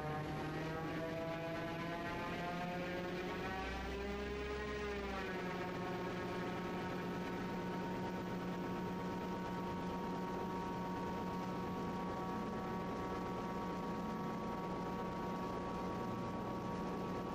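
A steady propeller drone from a Piper Cherokee doing a high-speed taxi on a runway hums loudly and continuously, the pitch briefly rising then settling, heard from close by with no talking.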